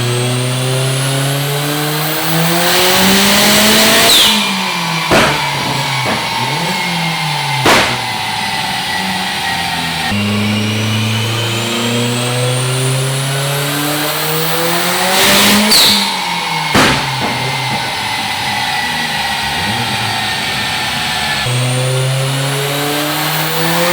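A Mitsubishi Lancer Evo 8 engine drones steadily at load on a dyno, with pitch rising and falling through two long rev cycles, loud and close, no voices.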